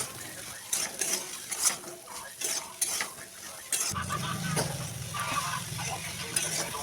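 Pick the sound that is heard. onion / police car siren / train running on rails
onion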